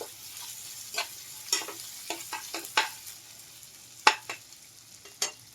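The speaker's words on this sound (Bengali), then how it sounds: "পেঁয়াজ দেওয়ার পর একটু নাড়াচাড়া করে দিতে হবে।" Fried onions stirred in a pan for a paneer dish, a quiet sizzle broken by soft, irregular scrapes and taps of the spoon spaced across the stretch.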